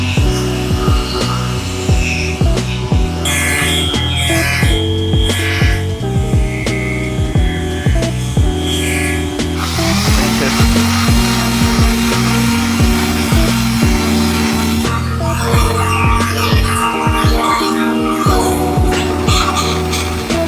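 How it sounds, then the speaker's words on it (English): A power sander with a 180 grit disc cuts back swells and scratches on a 1960s bumper, running continuously and loud with a droning hum and shifting tone as it works across the surface. "I'll get out a nice 180 and cut back all the big swells and scratches that are on here."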